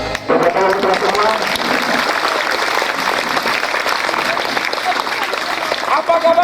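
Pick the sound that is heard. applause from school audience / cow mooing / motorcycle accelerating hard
applause from school audience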